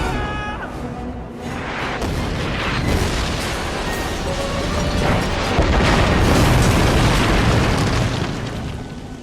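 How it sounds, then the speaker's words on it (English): A support-weapon strike in Killzone 2 erupts in a sustained, rumbling explosion, with heavy booming blasts rolling continuously and swelling louder toward the end, dense and close with no talking. "Calling down a support weapon. Killzone 2."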